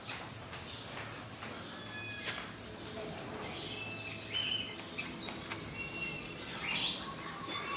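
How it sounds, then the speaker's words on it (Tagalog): Several birds of different species chirp and tweet in scattered bursts at a zoo, some calls high and sharp, over a busy outdoor background with faint rustling. "Dito, mga ibon, iba't ibang uri ng ibon."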